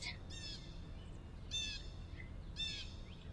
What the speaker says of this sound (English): That crow is like way too loud.